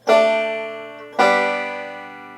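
Two banjo pinches on open strings, each a bright plucked attack that rings and decays, about a second apart, close and clear with no talking.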